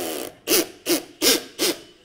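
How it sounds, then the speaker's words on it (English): A cordless drill driving a screw with its clutch slipping gives four loud, evenly spaced bursts of grinding, ratcheting noise, each about a quarter second long, close by with no talk. "See, that's the sound of the clutch that says it doesn't want to go anymore."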